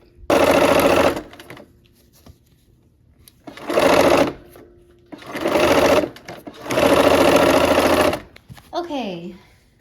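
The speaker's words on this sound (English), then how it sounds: "so let's go ahead and sew this seam" A sewing machine stitches a seam in four distinct bursts of fast, close, buzzing whir, separated by quiet pauses, ending with a brief rising whine.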